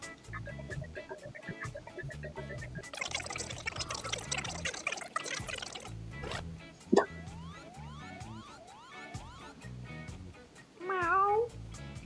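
A cartoon cat meows in short bursts within an old public domain cartoon, with plopping and pouring water sounds, whistle-like sliding tones and music around it.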